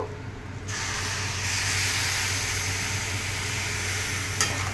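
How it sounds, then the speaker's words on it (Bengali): Semolina (suji) cooking in a pan with the last splash of water poured in, followed by a sudden loud hissing sizzle that holds steady, with a stirring scrape near the end. "এইবার আমি লাস্ট জলটা দেব"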